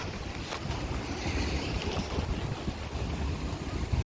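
Strong wind buffets a campsite shelter in a continuous, rushing roar with gusty surges and flapping rumbles close to the microphone.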